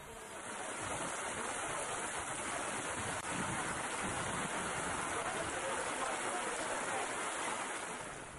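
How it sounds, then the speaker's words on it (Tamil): Rain falls steadily across a district in Tamil Nadu as a dense, even hiss with no breaks, loud and close, with no voices over it. "மாவட்டத்தின் பல்வேறு பகுதிகளிலும் பரவலாக மழை பெய்தது"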